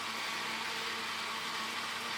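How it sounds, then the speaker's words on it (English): A kitchen blender chops a single onion, a steady, even motor whir with a bright, slightly harsh hiss, continuous and fairly close throughout with no pauses or voices. "So we'll start with 1 onion in the blender"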